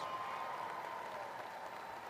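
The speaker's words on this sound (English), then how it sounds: "Graduates, let's give them a round of applause." An audience at a college commencement ceremony applauds graduates and their families, a faint, distant wash of steady clapping heard throughout a large hall.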